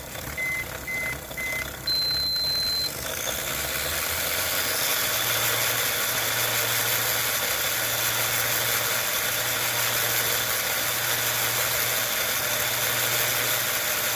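A Mini-z RC car with a PN 50-turn motor and spec gearing spins up on a wheel speed dyno, giving a steady high-pitched electric whine with a few short beeps at the start and a low pulsing hum beneath.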